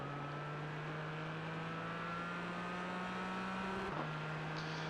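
A GT4 race car accelerating at the Nürburgring in a racing video game, with a steady sustained engine drone, a brief shift in pitch near the end, and a moderately faint level throughout.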